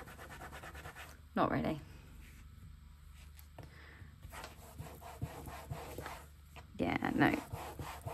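A marked surface being rubbed by hand to remove graffiti, two bursts of scrubbing friction around brief spoken remarks, with quiet background between.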